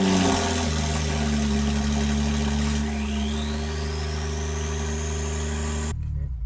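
A 2018 Porsche 911 Carrera T (991.2) runs just after a cold start, a loud, steady idle with a deep exhaust drone and a rising whine that cuts off abruptly near the end.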